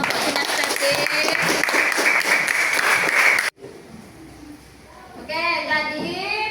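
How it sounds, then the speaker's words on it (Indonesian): Applause from a classroom group for a learning-style team, a dense, steady clatter of many hands for about three seconds that stops abruptly, followed by voices chattering. "beri tepuk tangan kepada kelompok kinestetik"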